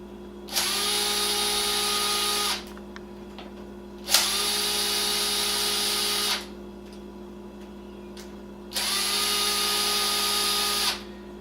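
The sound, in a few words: power tool removing engine head screws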